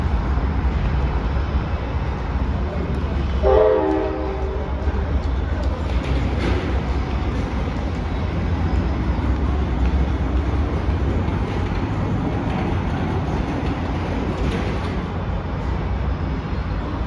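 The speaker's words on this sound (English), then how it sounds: "there's Amtrak's California Zephyr leaving in Sacramento" Amtrak's California Zephyr pulling out of Sacramento, a steady low rumble of the departing train with a brief horn-like tonal burst early on, heard from nearby over ambient noise.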